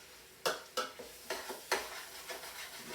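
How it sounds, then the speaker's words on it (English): Flour being stirred into chicken pieces in a pot for chicken paprikash, a run of scraping, rubbing strokes, several sharp at the start, then softer, close and moderately quiet with no talking. "You want to make sure you stir in the flour and coat all the pieces"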